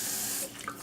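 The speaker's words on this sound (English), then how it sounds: "I already turn on the water." Water runs steadily from a Kohler kitchen faucet, model K-R75791-2PC-NA, during a cartridge repair, giving a brief, close, hissing stream into the sink.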